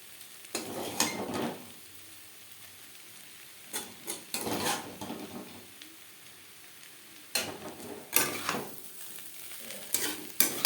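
Fish roe and onion greens stirred and fried in a pan, with intermittent bursts of a utensil scraping and tossing over a soft background sizzle, pausing between rounds of stirring.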